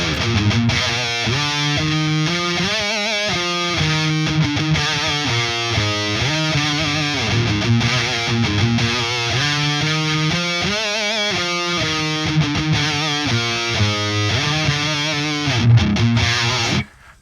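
Distorted electric guitar riff played through an STL Tone Hub amp simulator, a steady chugging run of palm-muted and ringing chords lasting the full stretch, loud and close with no voices over it.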